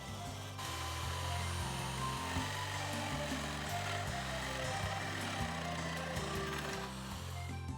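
A drill press bores blind holes into wood for a bed headboard at slow speed, a low pulsing motor drone with steady humming tones and faint grinding as the bit cuts, no talk.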